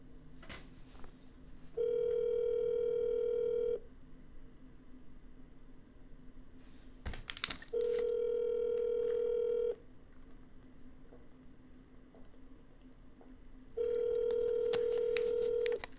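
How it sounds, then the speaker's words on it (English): Telephone redialing on a cold call for wholesale real estate deals: three steady ringback tones, each about two seconds long, repeating at even intervals over quiet background, with a brief click between them. "We're going to double dial."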